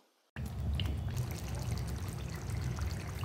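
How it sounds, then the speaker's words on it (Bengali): Cooked beef curry, a beef vuna, is poured and spooned into a bowl with a continuous wet, trickling pour that begins abruptly and carries on steadily up close, with no voices. "এখন আমি একটি বাটিতে এটা সার্ভ করে নিচ্ছি"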